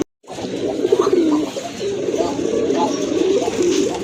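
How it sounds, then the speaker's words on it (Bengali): A pair of Rajgolla pigeons coo close by, low repeated throaty coos in a steady run after a brief silent start, with no talk. "এক জোড়া রাজগোল্লা কবুতর কিন্তু খুবই অ্যাক্টিভ, নটটা কিন্তু দেখেন অনেক ডাকে, অলওয়েজই ডাকে"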